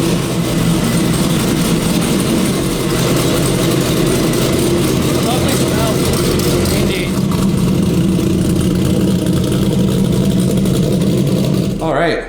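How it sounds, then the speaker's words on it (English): Corvette Z06 engine runs steadily at close range while the car is moved out of a garage, a continuous low rumble with slight revving, under some talk. "the first thing I have to do is I need to get the Z06 out of here so Tyler can get the Camaro in"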